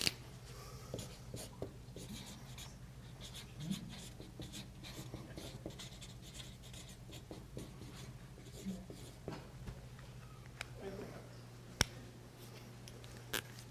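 A marker scratches across a flip chart in a quiet session room: faint, irregular strokes and taps spread over several seconds against low background hum.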